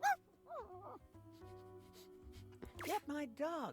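A dog whimpers and yips in the video game Date Everything, giving a few short, rising whiny cries at the start and end, with game music tones sustained underneath and a voice speaking in between.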